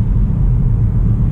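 A Skoda Karoq crossover accelerates on a regional road, heard from inside as a steady, loud low engine and road rumble with no other sounds.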